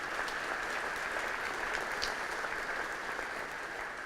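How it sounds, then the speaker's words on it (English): An audience at a graduation ceremony applauds, giving a steady, even wash of clapping that holds throughout at moderate distance. "Give me a round of applause for the truth."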